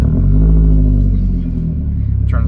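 A 1996 BMW Z3 engine runs with a loud, close, low rumble that holds steady and dips slightly near the end, heard alone with no speech.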